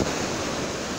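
Sea waves, a dense, loud hiss of surf filling the whole second without breaks or voices.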